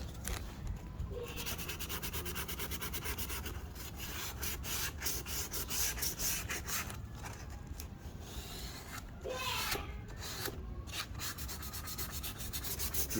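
Steady, continuous abrasive rubbing as sandpaper works over scratches on a cracked plastic VLAND taillight, a dense scratchy hiss with brief pauses and shifts in stroke, close and fairly loud throughout.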